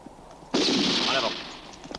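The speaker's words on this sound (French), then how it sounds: "On a entendu des coups de feu." A single loud gunshot-like blast cracks out, followed by a long echoing tail that slowly fades.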